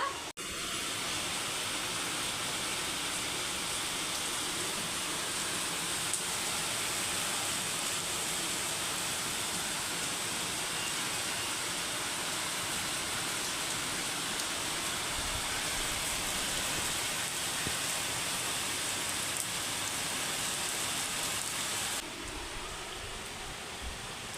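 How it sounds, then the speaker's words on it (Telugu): Heavy rain pours down in a village as a constant, loud, hissing wash of noise that holds unchanged for about twenty seconds, with no talking. "ఒకసారి నాకు ఇట్లా నుంచి చూడండి వాన ఎంత పెద్ద వాన వస్తుందో"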